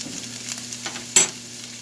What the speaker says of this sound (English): Let it do its little sizzle action here a little bit.